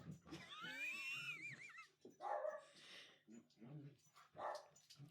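A dog gives a string of whiny yips, whimpers and short barks in irregular bursts, close and clear, with a person's voice mixed among the calls.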